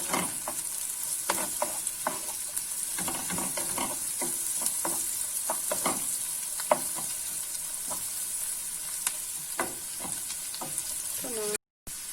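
Chili powder frying in a pan, a steady sizzle with scattered crackles and pops that runs throughout, close and moderately loud, with no one speaking.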